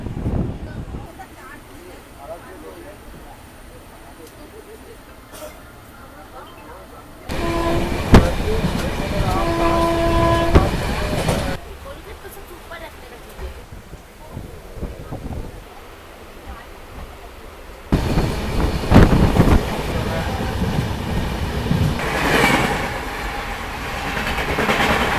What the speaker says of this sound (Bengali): হর্ন দিচ্ছে, ট্রেন ছেড়ে দিয়েছে। 13147 উত্তরবঙ্গ এক্সপ্রেস কিষানগঞ্জ ছেড়ে যাচ্ছে।